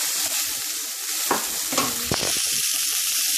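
Chicken pieces browned in a pan sizzle steadily with cream cheese just added, and a few stirring scrapes stand out over the constant frying hiss.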